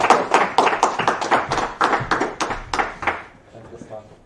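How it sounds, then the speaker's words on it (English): An audience at a tech talk gives a short round of applause, sparse individual claps close by that fade out after a few seconds. "So I'd like to introduce Joan, with some applause."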